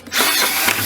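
A power drill bores into a plastic 5-gallon bucket, a steady loud whir that starts after a brief pause and holds to the end without talk.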